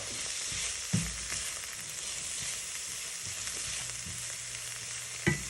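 Cabbage, bell pepper and onions frying in a pan give a steady, close hiss of sizzling, broken by two short clatters of stirring.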